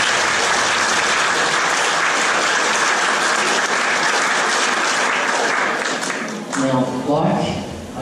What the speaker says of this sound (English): Big round of applause for those families.